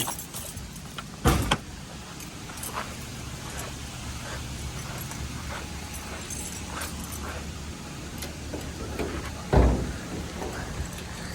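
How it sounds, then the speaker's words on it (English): Keys jangle faintly near a parked 1974 Cadillac Eldorado with a 500 engine, two sharper clunks standing out against steady low background rumble. "I'm gonna grab the keys"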